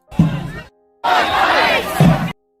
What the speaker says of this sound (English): this is a pretty big crowd